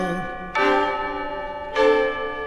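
Church bells ring within an Italian song, two strong bell strikes with long ringing sustains over the music.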